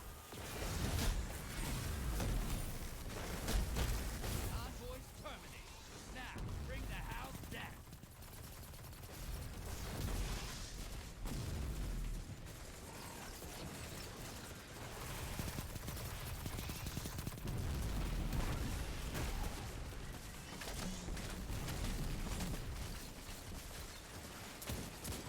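Video game gunfire from a hard light gun, fairly quiet, with repeated bursts of rapid shots and whooshing effects under a steady game-sound backdrop.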